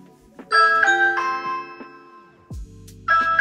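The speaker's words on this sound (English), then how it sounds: "You can now press your doorbell to check that it's worked." A bright two-tone electronic doorbell chime from a Ring doorbell rings out clearly on an Echo Show 5 smart display, followed by a thud and then the chime starting again.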